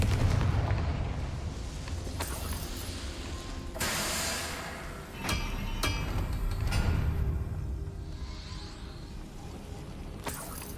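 Booming Confringo spell blasts in the Hogwarts Legacy video game, several loud bursts and crackling impacts spread over a rumbling battle backdrop.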